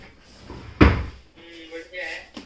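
A drawer of a new four-drawer chest of drawers slides and knocks shut with one loud, close thump, and softer shuffling follows while people talk quietly.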